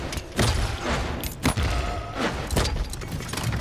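Poppy bombs from Paladins burst in quick succession, three or four punchy explosions about a second apart, close and moderately loud over steady game noise.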